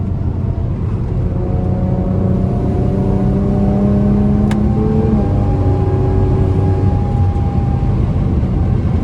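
A Nissan Skyline GTR R32 and an FBO Infiniti Q50 3.0T twin turbo race each other, their engines roaring loud and continuous with rising, whirring revs.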